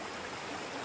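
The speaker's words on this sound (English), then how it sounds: "Waterfall." Waterfall in The Anointed: David Saves Keilah video game, a steady broadband rush of falling water that continues unbroken and fairly even in level with no voices over it.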